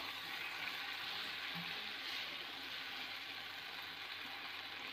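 Faint, steady sizzle of a thick pasta sauce with oregano being mixed in a pan, a quiet continuous hiss with slight scraping, close but low in level, no talk.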